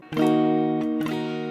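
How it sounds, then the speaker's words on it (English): A single strummed barre chord rings out on guitar, then a second strum follows about a second later, both sustaining clearly with no voices. "if you strum it, it should sound like this."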